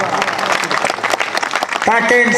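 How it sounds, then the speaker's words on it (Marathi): A comedy show audience breaks into applause, a dense burst of clapping filling most of the moment before a sustained tonal sound and voice take over near the end. "टाळ्या वाजवा"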